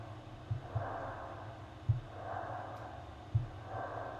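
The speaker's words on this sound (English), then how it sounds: "This one kind of made it sound like he was breathing a little bit." Ambient sample pad with a slow, breath-like swell: soft airy rises and falls repeating about every 1.4 seconds over a low murmur, with brief thumps at each cycle, quiet and without voices.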